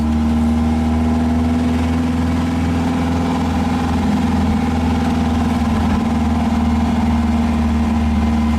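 A 1915cc VW Manx buggy engine with an 034 SVDA distributor runs loud and close with a steady droning hum, rising slightly in the middle as the throttle is touched, and no voices.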